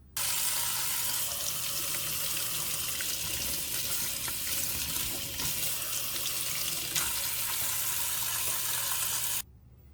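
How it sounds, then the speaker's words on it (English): Tap water runs steadily into a kitchen sink while a water filter pitcher cartridge is rinsed beneath it, a loud continuous splashing rush lasting nearly ten seconds before stopping abruptly. "I'm going to go rinse it underneath the sink for 10 seconds."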